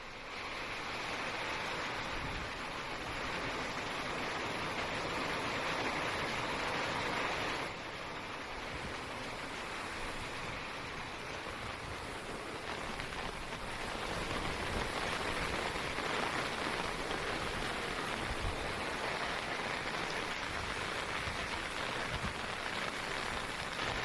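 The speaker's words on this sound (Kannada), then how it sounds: "ಎಡೆ ಬಿಡದೆ ಸುರಿತಾ ಇರುವಂತಹ ಮಳೆಗೆ ಸಾಕಷ್ಟು ಅವಾಂತರಗಳು ಕೂಡ ಸೃಷ್ಟಿಯಾಗಿರುವಂಥದ್ದು ಇಡೀ ರಸ್ತೆ ಸಂಪೂರ್ಣವಾಗಿ ಜಲಾವೃತವಾಗಿದೆ" Incessant rain pouring over a flooded village road in Hassan, a steady broadband hiss of rain and rushing floodwater that stays loud and continuous throughout, with no voices.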